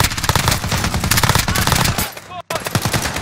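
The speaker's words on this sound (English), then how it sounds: "Got the sentry gun on." Rapid automatic gunfire from a sentry gun in Call of Duty Modern Warfare, a dense continuous burst of shots filling the scene with a brief cut of silence near the end, loud and close with game effects around it.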